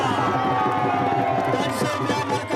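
Dense crowd noise at an arm-wrestling final, a continuous roar of cheering and shouting with possible clapping, loud and sustained throughout with an announcer's voice over it.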